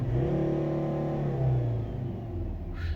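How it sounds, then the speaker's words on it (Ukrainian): A 2011 Volvo V60 R-Design 2.0 D3 diesel automatic revs up loudly close by, its pitch rising and then falling back to a steady rumble. "Можемо погазувати. Ух, потужний звук."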